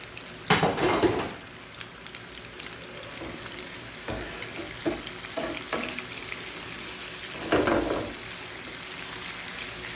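Cumin, curry leaves, mustard seeds and fenugreek seeds frying in hot oil for kadhi pakora, a steady crackling sizzle with two louder bursts as seeds hit the oil and occasional spoon clinks against the pan, no talking.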